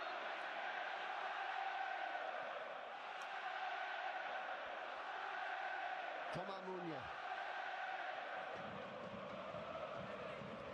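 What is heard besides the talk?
football crowd cheering at Lille vs Aston Villa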